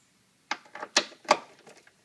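Several short metallic clicks and ratcheting bursts from a T30 star socket loosening the cover screws on a BMW drive belt tensioner, close and fairly loud, spaced irregularly with no talk.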